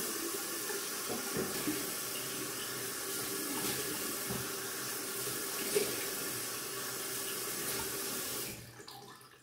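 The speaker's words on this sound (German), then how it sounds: "da werden wir uns jetzt einmal schön das Gesicht abspülen mit kaltem Wasser" Cold tap water runs steadily and splashes in a sink as a face is rinsed after a wet shave, a continuous close hiss that stops abruptly near the end.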